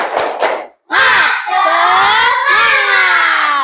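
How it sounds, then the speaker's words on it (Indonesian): Children in a classroom shout a spirited group cheer, loud and close, following a brief rhythmic burst of clapping and voices at the start. "Itu tepuk semangat."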